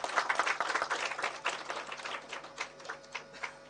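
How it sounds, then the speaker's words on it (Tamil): Audience claps at a Tamil film music launch, a quick patter of scattered hand claps that is fairly faint and thins out over a few seconds, with a faint hum beneath. "அதுக்கு எல்லாருமே வந்து ஒரு கைத்தட்டல் கொடுத்துருவோம்."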